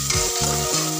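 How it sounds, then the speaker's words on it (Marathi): Onion and curry leaves frying in oil for a tempering, a loud close sizzle with stirring throughout, no voices. "फोडणीसाठी आपण याच्यात घातलेला आहे कढीपत्ता आणि कांदा। तर कांदा थोडा तळला गेलेला आहे।"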